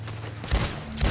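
Two loud gunshots go off about half a second apart in a Red Dead Online gunfight, each a sharp, booming burst.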